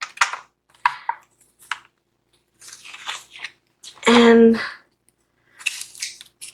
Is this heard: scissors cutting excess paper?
yes